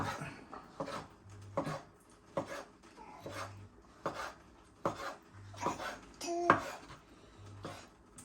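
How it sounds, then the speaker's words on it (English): Repeated knife cuts chopping seafood into small bite-sized chunks on a board, a steady series of short, close taps and knocks with clinks of utensils between them, no talking. "I'm just going to cut these into very small chunks"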